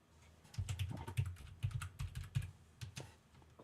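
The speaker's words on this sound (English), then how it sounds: "while you're typing that away" Computer keyboard typing in quick, uneven bursts of clicking keystrokes, close and clear with no talking over it.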